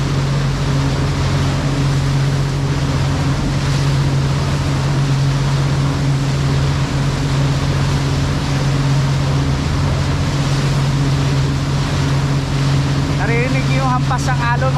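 Loud, constant roar of a motorboat engine with water splashing and slapping against the hull; a voice briefly shouts near the end.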